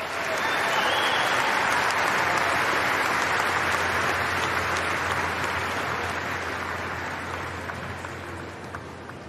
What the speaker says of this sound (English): one more round of applause to our finalists today for a fantastic final